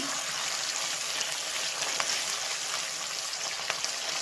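Spices crackle and sizzle in hot oil for a bitter gourd and potato fry, a steady dense hiss with faint pops throughout and no voices.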